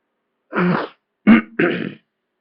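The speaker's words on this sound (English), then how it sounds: "I just am gonna have to clear my throat sometimes." A man clears his throat in three short, rough, close bursts separated by brief silences, with no other sound around them.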